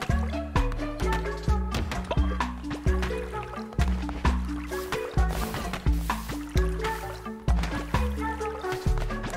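Plants being watered in Cult of the Lamb: repeated short liquid pours and splashes in a steady rhythm, layered over game music, each burst bright and close.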